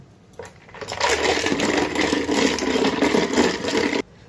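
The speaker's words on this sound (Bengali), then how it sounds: "তো আবারও ফেটিয়ে নেব।" An electric whisk or blender churns lassi flavoured with roasted cumin powder, cardamom and rose water, a steady loud whirring that starts after a short pause, holds for about three seconds and stops abruptly.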